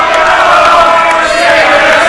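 Arena crowd noise during a Mosconi Cup pool match in Las Vegas, a dense, loud and steady roar of many voices with a faint cheering edge that holds through the whole stretch.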